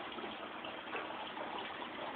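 Water flowing into the fish tank of an aquaponics greenhouse system, a steady even gush heard close and continuous, with no talk over it.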